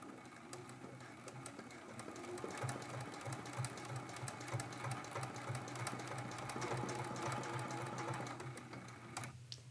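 A sewing machine stitches a few short locking stitches into a quilt-as-you-go block, its steady mechanical whir and needle rhythm running close and continuous.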